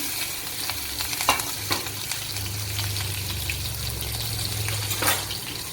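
Chopped green chilies and whole cumin seeds sizzle in hot oil while being stirred, a steady close frying hiss broken by a few sharp spatula scrapes.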